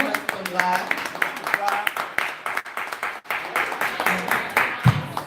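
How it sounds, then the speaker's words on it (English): Scattered clapping from an audience at a discussion event, a loose, uneven patter of hand claps mixed with murmuring voices and some talk, moderately close. "you better clap for me"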